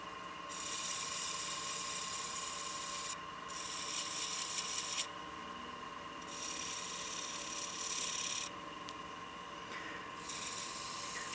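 A turned wooden utility box sanded with 320 grit paper, the rasping strokes coming in several long, steady bursts separated by short pauses, fairly close and with no voices.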